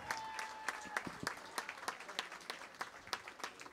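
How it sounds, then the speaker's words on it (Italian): Sparse applause for a maestro at a folk music event, a small audience clapping in distinct, uneven claps, faint and somewhat distant, with a steady tone sounding underneath. "Signori, un applauso."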